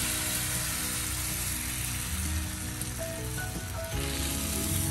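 Bánh xèo batter meeting a hot nonstick pan gives a steady, close frying sizzle like light rain that fills the whole clip, with faint clinks of utensils near the end.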